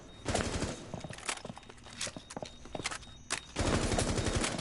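Bursts of automatic gunfire from an open-bolt weapon in Rainbow Six Siege, the Skull Rain update, ring out in several rapid volleys with pauses between, fairly close and loud, with footsteps heard too.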